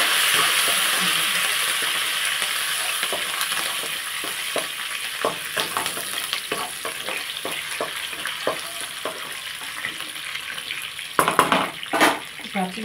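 Curry leaves are rinsed under running water in a kitchen, with a steady tap stream, splashing and scattered crisp rustles and clinks of leaves being handled, close and moderately loud.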